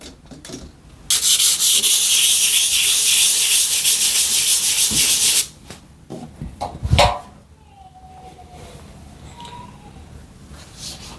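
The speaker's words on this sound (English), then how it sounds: "get this top patch, give it its final sanding" Several seconds of loud, steady scratchy hand sanding of a drywall patch, then it stops, followed by a few knocks and quieter handling noises.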